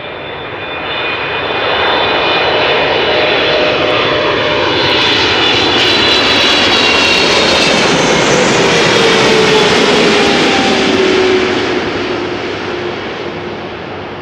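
A landing airliner arrives up close at Amsterdam Schiphol Airport, its loud engine roar swelling in over a second, holding steady and strong, then beginning to fade as it passes near and away.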